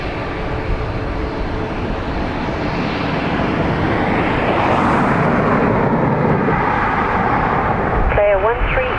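Loud, steady engine roar of a nearby Garda police helicopter at Dublin Airport, continuing throughout with a brief chirp near the end.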